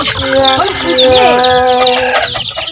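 A rooster crows loudly among a crowd of clucking chickens, dense and close, with several birds calling at once.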